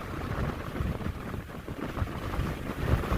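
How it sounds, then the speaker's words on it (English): Strong wind buffets the microphone over a steady, loud low roar of surf and waves on a beach, continuous throughout with no voices. "Look at the waves coming in."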